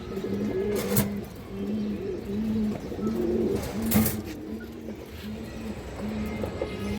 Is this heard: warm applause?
no